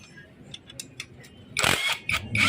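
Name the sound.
Kawasaki HD3 motorcycle engine running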